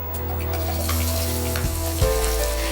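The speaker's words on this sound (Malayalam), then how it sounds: "ഇതിന് ഭയങ്കര ബ്രൗൺ ഒന്നും ആകണ്ട, ഇതൊന്ന് വഴറ്റിയാൽ മാത്രം മതി" Half-sliced onions sautéing in oil in a pan for a beef coconut roast, a steady loud sizzle with faint stirring clicks and a couple of brief bumps partway through.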